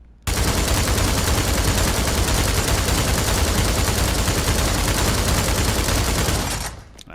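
Sustained full-auto gunfire from a rifle in Pavlov VR, loud and unbroken for about six seconds until the magazine runs dry and the shooting stops abruptly.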